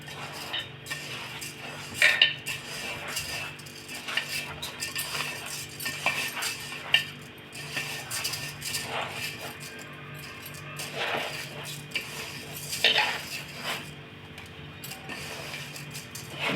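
A metal spoon stirs and scrapes through chicken pulao ingredients with small-grain rice in a pot, giving repeated close clinks and scraping strokes, with a few louder knocks against the pot.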